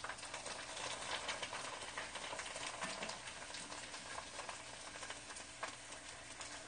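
Shrimp chips fry in hot oil with a steady, dense crackle and sizzle, fairly quiet and even throughout.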